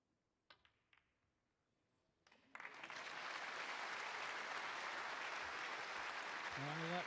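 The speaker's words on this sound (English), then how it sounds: "Well, a nice round of applause" Snooker crowd at the UK Championship qualifying, a few isolated claps that swell into steady, full applause filling the hall and continuing to the end, with a faint voice near the close.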